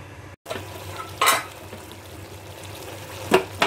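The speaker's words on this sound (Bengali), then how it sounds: "ঝোলটা ফুটে গেছে।" Vetki fish curry gravy boiling in a pan, with a steady close bubbling simmer and two brief clinks of a utensil against the pan. No one speaks.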